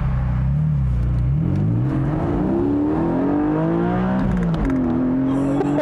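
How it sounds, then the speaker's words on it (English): A 2021 Porsche 718 Boxster GTS 4.0 with its 4-liter engine and six-speed manual pulls hard through the gears, a loud, steady engine note climbing in pitch, dropping at each shift, then rising again. "just to hear it shift, I want to go through the gears"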